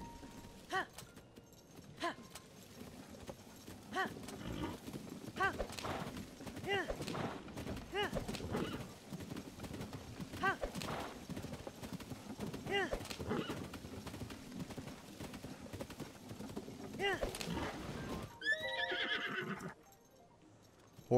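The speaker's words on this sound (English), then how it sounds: "Horse, just keep going," Horse neighing and clip-clopping hooves in the video game The Legend of Zelda: Tears of the Kingdom, repeated bursts under steady game music and a talking voice, ending in a brief bright whinny-like flourish before dropping quiet.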